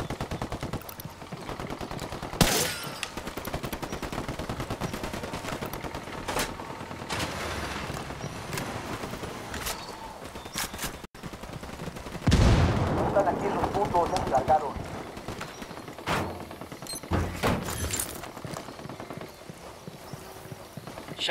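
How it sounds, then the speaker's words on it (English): Bursts of gunfire erupt during a firefight with a drug cartel in the open-world shooter Ghost Recon Wildlands, sharp shots scattered over a steady game soundscape with hoofbeats and a voice talking through it, one louder volley midway. "Shots fired. Unidad's engaging the cartel."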